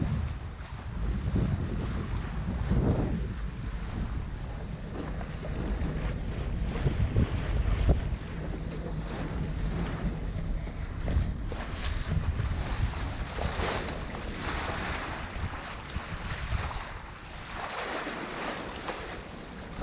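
Wind and water while under sail on a sailboat as the breeze picks up: a continuous rush of wind buffeting the microphone over sloshing waves against the hull, loud and steady with no talking.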